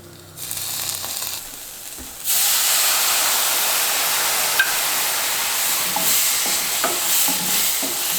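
Pieces are stirred in a hot pan with barbecue sauce, a loud steady sizzle and hiss that swells after a quieter start, with faint scrapes of the utensil.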